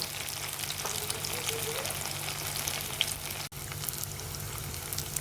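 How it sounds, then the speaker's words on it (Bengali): Green banana slices frying in hot cooking oil and being turned in the pan, a steady close sizzle running throughout with occasional stirring scrapes and no talking. "কলাগুলিকে আমি উল্টে পাল্টিয়ে ভেজে নিচ্ছি।"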